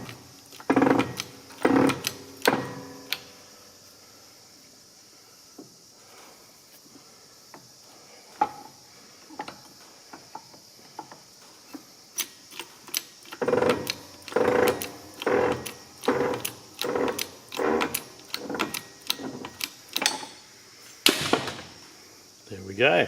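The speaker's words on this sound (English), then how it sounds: "press the bearing out, or the centre out of the bearing is what we're looking to do" Press forcing the bearing out of a forklift clutch carrier in a shed workshop, a series of sharp creaking clicks and ratcheting strokes, first a few then a rapid run near the end, close and fairly loud with quiet gaps.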